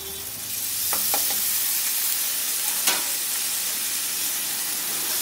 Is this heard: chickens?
no